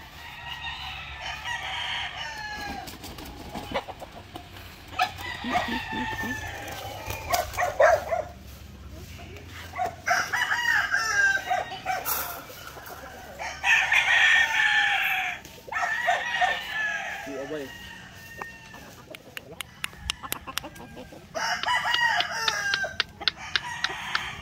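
Turkeys on a small farm call in repeated loud bursts among other fowl, with a dog barking at times, the calls coming in clusters and separated by short gaps.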